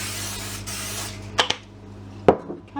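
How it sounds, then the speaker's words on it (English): Cooking spray hissing from an aerosol can onto a lasagne dish, a few short bursts close up against a steady background hum. "you just spray that with the spray"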